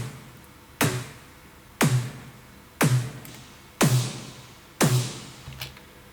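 Five dry EDM snare hits, roughly a second apart, each a sharp punchy crack with a short noise tail, plus a faint extra tap near the end; clean and alone with no voices.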